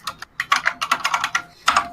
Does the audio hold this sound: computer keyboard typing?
yes